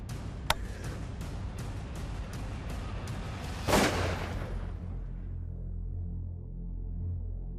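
A rifle shot at a running whitetail buck during a South Dakota hunt, a single sharp blast a few seconds in followed by a brief noisy rumble, then quiet outdoor ambience.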